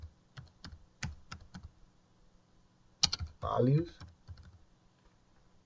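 Keystrokes on a computer keyboard while entering an Oracle SQL statement, scattered clicks in short bursts with a pause, with a voice speaking briefly over part of it.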